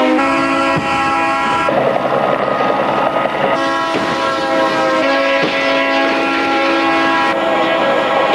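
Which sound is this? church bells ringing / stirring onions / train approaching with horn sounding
train approaching with horn sounding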